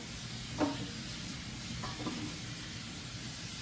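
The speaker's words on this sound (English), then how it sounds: "Rinse this off as well." Running tap water hisses steadily as produce is rinsed in a home kitchen, with a couple of brief splashy knocks near the start and midway; no talking.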